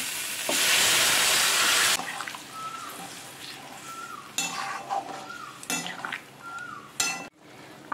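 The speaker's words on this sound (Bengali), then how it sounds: "ঝোলটা ওতে ঢেলে দেব" Fish curry gravy is poured into a pan of fried spice paste, a loud hiss and sizzle at first that settles into softer bubbling, with clinks of a spoon against the pan.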